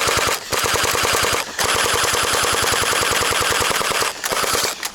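Long rapid bursts of airsoft gunfire during an outdoor king-of-the-hill skirmish at Mango Hill, Australia, loud and close, with steady machine-gun-like rattling broken by a few brief pauses.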